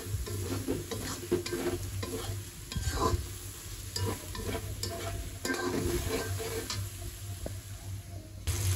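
Hilsa fish pieces searing in oil in a home kitchen, a steady sizzle with repeated scraping stirs and clinks of a utensil against the pan, close and continuous under a low hum.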